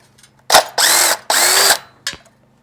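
A power tool drives out two bolts holding a bracket near a pipe: four close, loud whirring bursts, two short and two longer, with brief quiet gaps between them.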